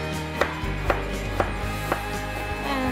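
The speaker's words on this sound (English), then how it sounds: "And then cut it in chunks." A knife chops a peeled root vegetable into chunks on a board, five crisp, evenly spaced thuds over a low steady hum.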